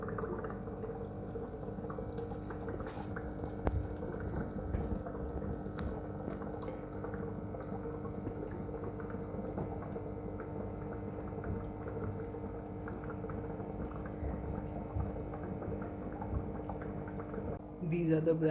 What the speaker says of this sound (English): Slowly you can see the bubbles have started appearing